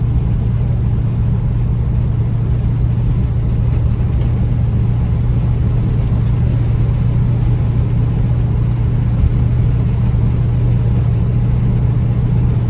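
A 429 cubic inch engine in a low-mileage old car drones steadily at 39 mph, a constant deep hum with road rumble and no change in pitch, loud and close from inside the cabin.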